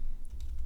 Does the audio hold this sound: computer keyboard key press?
yes